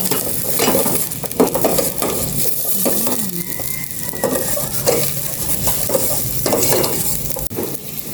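Onions sautéing in a pan alongside garlic, with a steady loud sizzle and frying crackle through the whole stretch, broken by scraping stirs and the odd clink of a utensil against the pan.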